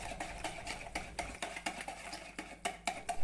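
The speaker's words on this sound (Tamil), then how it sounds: "இதை நல்லா மிக்ஸ் பண்ணலாம். அந்த சீனி ஃபுல்லாட்டு கரையணும்." A spoon stirring sugar and milk together in a bowl for an eggless brownie batter, giving quick rhythmic scraping clinks against the bowl, repeated about a dozen times, close and clear.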